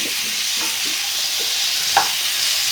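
Chicken with black pepper frying in hot oil in a pan, a steady close sizzle with a few soft stirring scrapes and one small pop.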